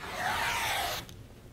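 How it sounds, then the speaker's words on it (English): A rotary cutter slices along a ruler through fabric for 3-inch quilting strips, a steady close scraping rasp for about a second that then stops abruptly, leaving quiet room tone. "Let's cut some 3-inch strips here, and I'll line this up just like that."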